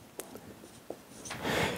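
Handwriting by hand during a mathematics lecture: a few short, quiet scratches and taps of a pen or chalk, close and isolated, followed by a louder rubbing swell at the end.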